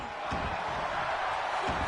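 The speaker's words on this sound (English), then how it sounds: "this crowd chanting fight forever" A wrestling crowd at a Survivor Series event roars and chants "fight forever" in a dense, steady wall of voices, with a few heavier thumps underneath.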